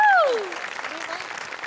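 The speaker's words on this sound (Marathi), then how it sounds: "त्यांच्यासाठी एकदा टाळ्या वाजूया" Studio audience at the Marathi comedy show Maharashtrachi HasyaJatra applauds after a comedy sketch performance; after a brief tonal flourish, steady close clapping fills the rest of the clip.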